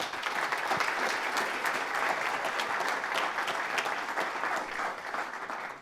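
A crowd claps steadily and enthusiastically for several seconds, the applause fading slightly at the end.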